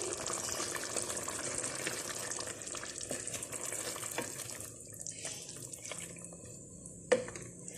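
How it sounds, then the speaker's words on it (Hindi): A cup of water pours and splashes into a pot of mutton karahi, mixing with a soft sizzle and stirring noises, ending with a brief clink. "तो अब हम इसमें 1 कप पानी डाल के कुकर लगा लेंगे।"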